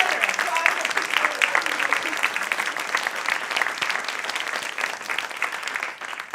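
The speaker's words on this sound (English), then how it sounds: "now it's time for applause." Applause fills a church congregational meeting, a dense, steady clatter of many hands clapping throughout, with a few cheers mixed in, fading slightly at the end.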